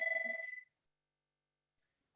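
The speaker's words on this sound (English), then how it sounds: "my phone's ringing" A mobile phone rings with a warbling electronic tone for about half a second, then cuts to silence, followed by one brief faint blip near the end.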